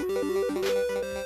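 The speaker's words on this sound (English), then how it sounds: "You hear this alarm first." Chiptune low-health alarm from the NES wrestling game Pro Wrestling, a short looping electronic beeping melody with stepped square-wave tones, heard alone and close.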